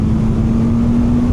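A 2026 BMW R 12 G/S motorcycle engine revs hard at high rpm, a steady loud close drone with a strong sustained tone and no break.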